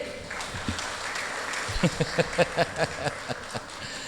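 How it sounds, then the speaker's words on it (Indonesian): Audience at the 2023 Muhammadiyah and Aisyiyah regional assembly in Pamekasan applauds a speaker, a steady crowd clap joined by a run of distinct rhythmic claps near the middle before fading. "Tepuk tangan untuk Pak Zaini."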